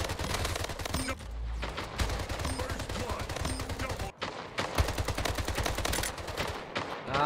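Rapid, continuous gunfire from the arena shooter Splitgate rattles almost without pause, with brief gaps and heavy bursts, loud throughout under faint voice.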